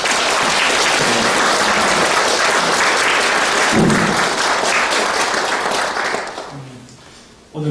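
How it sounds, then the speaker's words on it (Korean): Loud, sustained applause from a large crowd at a Lenten lecture fills the room, then thins out and fades toward the end. "큰 박수."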